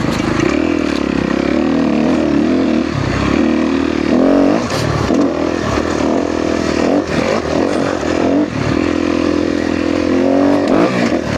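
A 2013 Kawasaki KX250F motocross bike engine runs loud and close throughout a test ride, with steady revving and brief throttle blips near the middle.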